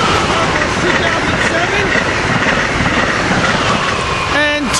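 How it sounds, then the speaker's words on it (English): An Amtrak Acela train rushes past northbound at Cornwells Heights station, a loud steady roar and rail rumble filling the whole stretch, with someone talking over it and a brief horn-like tone near the end. "Here we got an Amtrak train coming north. This is the Acela."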